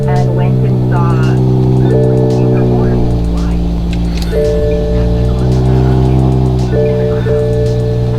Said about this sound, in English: I'm gonna start the car